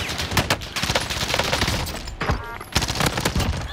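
Sustained automatic gunfire from a sentry gun in the video game Warzone, a dense rapid rattle of shots running through the whole stretch with brief dips and renewed bursts, loud and close.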